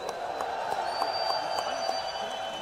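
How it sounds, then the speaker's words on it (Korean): A crowd at an outdoor rally in Gwangju applauds police officers on duty, a steady wash of distant clapping and cheering with sharp hand claps standing out. "우리 경찰분들께 격려의 박수를 드리겠습니다."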